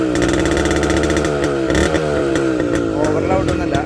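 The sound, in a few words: Suzuki Max 100 motorcycle exhaust note, modified stock silencer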